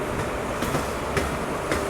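A train rolls into Katni Murwara railway station with a dense, steady rumble and occasional wheel clatter, loud and close throughout.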